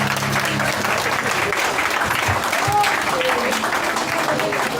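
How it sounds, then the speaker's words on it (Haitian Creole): A congregation claps together in sustained, dense applause for Jesus at a church gathering, loud and close, holding steady for the whole stretch with a low voice humming faintly underneath. "Un applaudissement pour Jésus."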